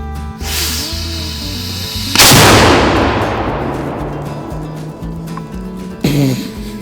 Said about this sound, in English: So we have had a successful firing of the cannon.